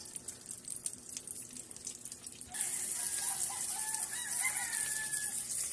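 A rooster crows in the background while dried salted fish (tuyo) fries in a pan, the sizzle rising sharply and staying loud and steady throughout, with a bird call heard over it.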